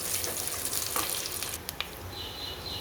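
Cumin seeds splutter and crackle in hot ghee in a pan while Palak Corn Rice is cooked, a dense, close sizzling that fills the short stretch.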